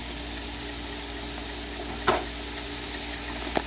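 Curry chickpeas (channa) with shrimp stir-fried in a pot: a steady, even sizzle runs throughout, broken by a brief clatter near the middle and another short knock at the end. No one talks.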